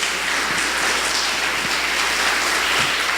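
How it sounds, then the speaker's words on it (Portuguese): A church congregation claps together through a worship service, a steady dense wash of applause with no pauses, fairly loud and filling the room. "Tem que ser mais forte essas palmas."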